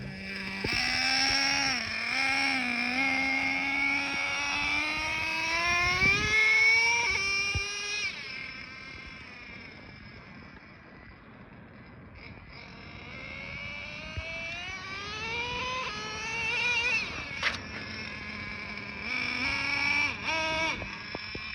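A Traxxas nitro RC car with a TRX 3.3 engine screams at high revs, its whining pitch sweeping up and down as it speeds away, fades, then returns loud and close.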